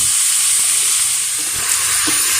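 Tomatoes and kamias frying in a pan, a steady loud sizzle and hiss throughout with faint stirring knocks underneath and no talk.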